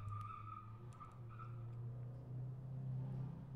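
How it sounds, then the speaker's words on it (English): A faint, sustained squeal of car tires from a distance, holding a steady pitch for several seconds over low traffic rumble. "Some car is driving crazy outside. Guy screeched his tires."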